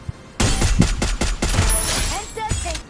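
Rapid, loud gunshots crack in quick succession during a Free Fire ranked match, with a voice talking over the shooting.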